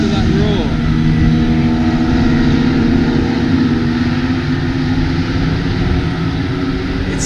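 Porsche Sport Cup race cars at Spa Francorchamps make a continuous loud engine roar with a low droning rumble and a brief rising note at the start, heard without talk.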